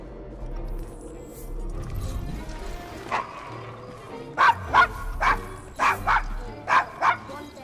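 A dog in Assassin's Creed Syndicate, in a rough London street, barks and yips in a quick series of sharp, close barks after a quieter stretch of low background sound.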